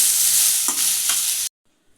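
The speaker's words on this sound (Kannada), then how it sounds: "ಮೂಲಂಗಿ ಒಂದು ಐದು ನಿಮಿಷ ಫ್ರೈ ಮಾಡ್ಕೊಂಡಿದ್ದೀನಿ" Radish pieces frying and being stirred in a pan, a loud close sizzle with two scraping stirs, then cutting off abruptly into near silence as the heat stops.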